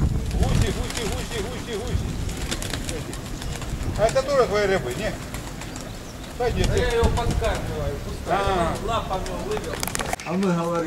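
Pigeons belonging to someone coo close by in repeated rolling calls, with wind buffeting the microphone and people talking now and then between the coos.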